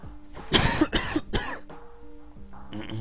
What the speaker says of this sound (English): Excuse me for the cough there, guys.